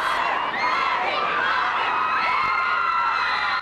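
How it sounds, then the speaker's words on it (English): Thousands of fans scream and cheer at a film world premiere in New York, a dense, continuous roar of high-pitched shrieks and whoops with no pauses. "Among the crowd of thousands of screaming fans"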